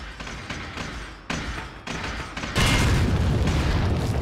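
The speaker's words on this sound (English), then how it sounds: "this time I'm gonna use this other grenade" A grenade detonates in the video game Resident Evil 4, a loud broadband boom that swells into a sustained rumbling roar after a few thumping impacts, with no voices.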